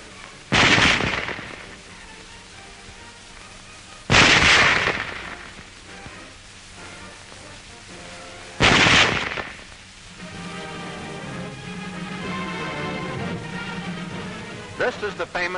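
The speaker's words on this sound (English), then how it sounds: "Loading and firing the Model 98K is the same as our own Springfield" Three loud, sharp gunshots from a German Mauser Model 98K bolt-action rifle ring out several seconds apart, each with a brief echoing tail, followed by a stretch of steady background tone.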